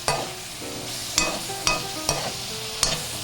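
Shrimp frying in a pan and being stirred, with a steady sizzle under a handful of sharp, evenly spaced scrapes and knocks of the utensil, close and alone.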